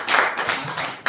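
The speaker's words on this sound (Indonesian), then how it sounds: "berikan tepuk tangan dong sekali lagi" Clapping in a classroom after a group presentation, a short burst of hand claps filling the room with a brief break before a fresh round starts near the end.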